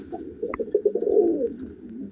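A Madrasi pigeon in a loft coos close by, a series of soft, low throaty pulses that roll into a longer burbling call, with a few faint chirps above.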